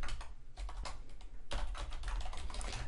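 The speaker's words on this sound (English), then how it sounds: "Actually, I'll just type them up here." Rapid clatter of typing on a computer keyboard, keys struck in quick irregular bursts with a brief lull near the half-second mark, close and steady, with no voices.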